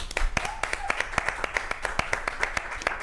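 A small audience claps at a live talk show taping, producing distinct, fairly close hand claps in a loose rhythm that sound like a modest group rather than a large crowd.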